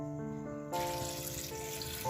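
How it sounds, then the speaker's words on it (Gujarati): Two glasses of water are poured into a pot of salted chickpeas and potatoes for hotel-style chole. A steady, close splashing rush runs for about two seconds with no one talking. "એની અંદર આપણે 2 ગ્લાસ પાણી નાખવાનું છે।"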